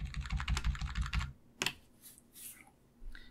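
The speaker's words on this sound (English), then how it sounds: "I'm going to duplicate each of these objects using Ctrl-D, then hold Shift and use the arrow keys to move them apart." Keys on a computer keyboard are pressed quickly in a steady run of soft clicks, then stop, followed by a few sparse, quieter clicks and shuffles while Ctrl-D and the arrow keys are used in Inkscape.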